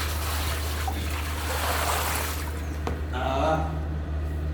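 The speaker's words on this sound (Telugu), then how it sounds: "ఈ బకెట్లో సేమ్ ఇదే బకెట్లో వాటర్ వేయండి" Water is poured into a bucket during cleaning of a household water sump, a continuous rushing trickle that fades near the end, with a muffled voice in the background.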